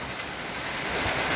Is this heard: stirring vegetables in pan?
no